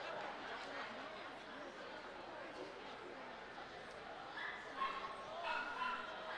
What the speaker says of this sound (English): This is the Field Spaniel.